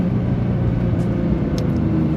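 Nissan GTR engine under part throttle while driving, heard from inside the car as a steady, loud low rumble and drone with no break in the power.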